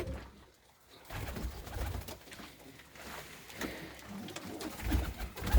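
Soft pigeon cooing, low and murmuring, drifts in over faint background noise, growing a little louder toward the end.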